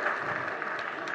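Audience clapping in a gathering at a Jain religious discourse, a dense, steady patter of many hands sustained through the whole short stretch without pause.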